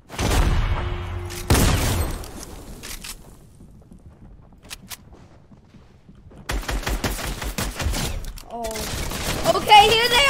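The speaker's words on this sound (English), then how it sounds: "They all just start shooting at the same time." Fortnite bots firing in a battle lab game mode, bursts of rapid gunfire and booms separated by quieter stretches with sparse shots, while players talk excitedly over it.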